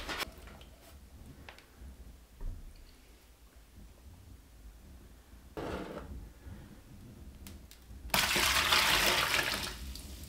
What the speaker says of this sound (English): use a small container to catch the water as it comes out back here